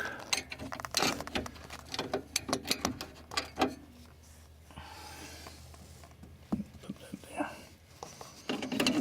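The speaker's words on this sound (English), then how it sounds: "take these screws out that holds the radio delete plate in place" A screwdriver works screws out of the radio delete plate on a 1950-52 Studebaker dash, giving a run of close metallic clicks, scrapes and small rattles, then a quieter stretch before more handling noise.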